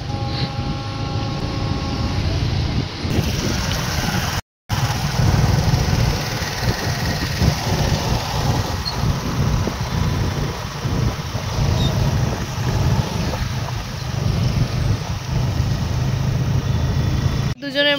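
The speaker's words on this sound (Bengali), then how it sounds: "নতুন বাইক কিনলাম, যাচ্ছি" A new motorbike rides away, its engine a steady, fairly loud drone mixed with road and wind rumble that runs almost unbroken apart from one brief cut.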